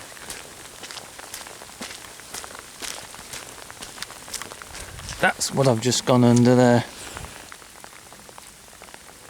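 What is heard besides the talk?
rain falling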